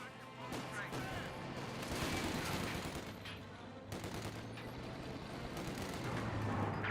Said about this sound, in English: got the Vickers K engaging the Assault Grenadiers, forcing him back